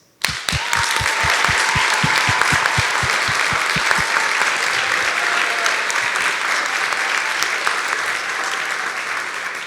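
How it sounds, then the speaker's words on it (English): An audience at a National Junior Honor Society induction applauds the new members, opening with a few strong, distinct claps before swelling into loud, sustained clapping that slowly eases. "please join me once again in applauding all of our new Junior Honor Society members"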